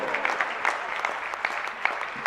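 Audience applause at a college award ceremony, a crowd clapping steadily with scattered sharper claps standing out, moderately loud and continuous throughout.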